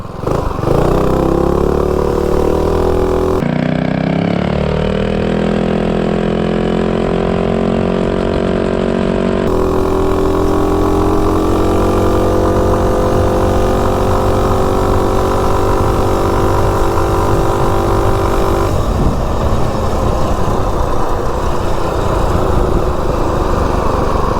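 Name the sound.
Coleman B200 minibike engine running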